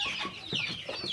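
Hens cluck softly and repeatedly nearby, several chickens murmuring over one another in a steady, busy chorus.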